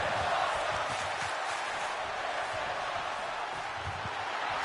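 An arena crowd in the WWE 2K26 wrestling game roars steadily as Stone Cold Steve Austin riles them up, a dense continuous wash of cheering with no clear individual voices.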